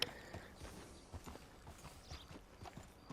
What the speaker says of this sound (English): as we reverse the horse up